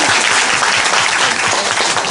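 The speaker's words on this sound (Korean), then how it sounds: "우리 안재영, 유승현 사내 두 분에게 박수 한번 부탁드리겠습니다" An audience at a musical curtain-call event in Korea breaks into dense, loud, sustained clapping that continues unbroken throughout.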